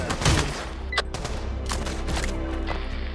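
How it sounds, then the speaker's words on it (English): Shotgun blasts from the VR shooter Pavlov VR, played in a Trouble in Terrorist Town match: a few sharp, fairly distant reports ring out over a steady game ambience, with no talking. "I hear a shotgun"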